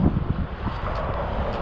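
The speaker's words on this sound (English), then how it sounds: "A little bit windy out here." Steady gusty wind buffeting the microphone outdoors beside a truck and trailer, a continuous low rumbling roar with no pauses.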